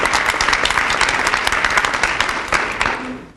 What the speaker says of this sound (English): If we can give the partnership of this group a round of applause.